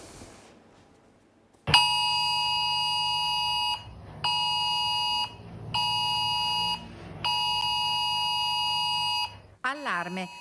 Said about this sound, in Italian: L'allarme è arrivato direttamente sullo smartphone